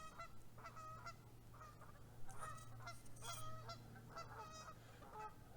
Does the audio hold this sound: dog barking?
no